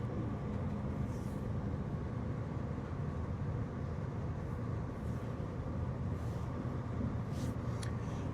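A train rolls slowly into Sheffield station, a steady low rumble and wheel hum heard from inside the carriage, faint and even with occasional light squeaks and clicks over the top.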